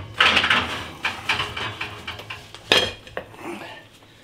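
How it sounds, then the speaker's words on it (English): A cooked Lidl Alfredo stonebaked quattro formaggi pizza is taken out of a home oven, with loud clanks of a metal tray, a rattling oven rack and a door knock in quick, uneven bursts close by. "Okay, the pizza's cooked. Let's get it out the oven."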